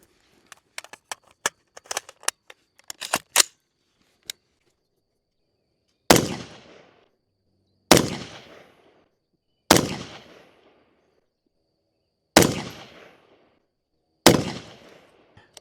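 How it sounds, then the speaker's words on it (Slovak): Acheron LTX 5.56 rifle fired without a muzzle brake, a cluster of sharp cracks and faint clicks at the start, then five loud, widely spaced single shots with ringing decays, close and outdoors. "No a teraz si poďme vyskúšať streľbu bez tomiča."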